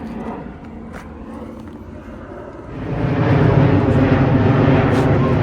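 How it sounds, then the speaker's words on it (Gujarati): An airplane passes overhead at Kew Gardens, London: a broad, distant rumble that swells steadily louder halfway through and holds, with no talk. "પ્લેન તો એટલા બધા આવે છે"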